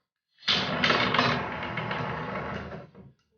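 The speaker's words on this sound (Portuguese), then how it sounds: "Notem que o motor para mais rapidamente e não chega a bater no final." An automatic gate motor with its electronic brake set to level 2 runs with a close, even mechanical whir for about three seconds and then stops abruptly, with no talking.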